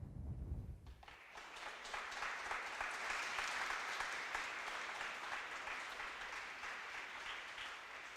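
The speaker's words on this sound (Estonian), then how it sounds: "Plaksutage julgelt" Sustained applause from an audience at a students' science festival award ceremony fills the hall, steady and dense for several seconds after a brief low thump.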